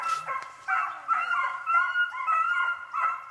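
Hunting dogs bay continuously during a field trial at the Evergreen Fox Pen in South Carolina, a chorus of overlapping howling, yipping voices heard from a moderate distance.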